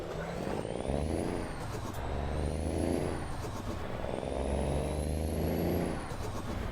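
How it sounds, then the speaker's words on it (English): A heavy truck engine in Euro Truck Simulator 2 drones steadily and close, its pitch climbing and dropping in repeated cycles as it revs through the gears, with a faint high whine. "Still loving the sound of this truck."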